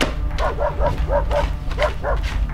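Several dogs bark and yip repeatedly at a moderate distance, a steady run of short calls over a low background rumble, with no talking.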